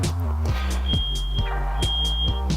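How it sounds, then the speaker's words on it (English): A kitchen smoke alarm sounds in another room, its high electronic beeps repeating in short bursts over a low mechanical hum and scattered clicks, fairly faint and with no talking. "That's just the kitchen, if you can hear that fire alarm"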